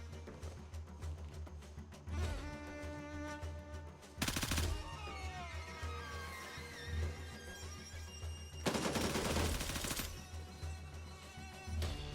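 Gunfire in the shooter game Gray Zone Warfare: two loud rapid bursts of shots stand out over a tonal background, with a few scattered single shots between them.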